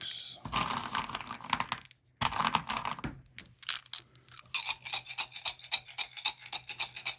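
Three dice for battlefield nukes rattle and clatter in quick bursts during a wargame, with sharp tapping strikes that grow into a rapid run of clicks toward the end.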